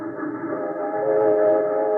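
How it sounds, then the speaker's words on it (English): Trains in a railroad yard, as a radio drama effect, sound a long steady horn-like whistle that swells slightly louder midway, with rolling rail rumble underneath and no voices. "With those trains, how can you concentrate on your wax modeling, Scala?"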